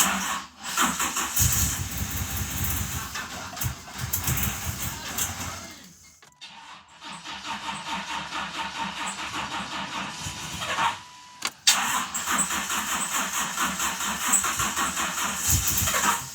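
A GMC Typhoon engine that sat for 21 years runs after its first start, idling roughly and close by, cutting out around six seconds and again near eleven before catching and running on.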